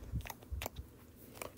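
A bite into an orange slice, then soft, wet chewing, all quiet and close with a few small crunchy bursts and no talking.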